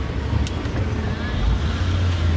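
A taxi moving through busy Mumbai street traffic, with a steady low engine and road rumble close by, a continuous wash of surrounding traffic noise and a few faint higher tones, and no clear talking.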